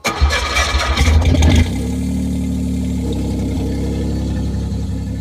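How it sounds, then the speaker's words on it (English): A classic Chevrolet Camaro engine with a missing muffler fires up with a loud roaring burst, then settles into a deep, rumbling idle with a throaty exhaust, close by and steady. "Can't hear you over that darn exhaust!"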